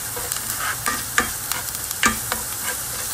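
Chopped onion frying in a pan until brown, a steady close sizzle with light stirring scrapes and a few sharper ticks scattered throughout.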